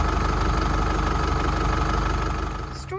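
A 2021 GMC Canyon Denali 4x4 with a 2.8 liter four-cylinder engine and automatic transmission idles steadily up close, a constant low rumble that eases slightly near the end.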